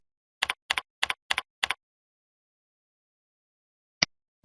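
A username goes in on a computer keyboard: five quick, evenly spaced double-clicks of keys close by, a pause of silence, then one more isolated key tap near the end.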